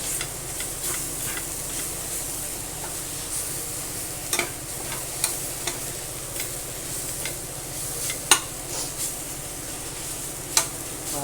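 Bharangi wild greens sautéing in a pan, giving a continuous soft sizzle and hiss throughout, with occasional light scraping and stirring clicks, close and steady with no voices.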